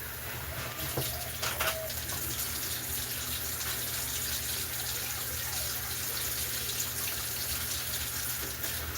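Water running steadily from a tap, likely very hot from the boiler, a continuous broad gushing wash that stays level and close throughout, with no talk.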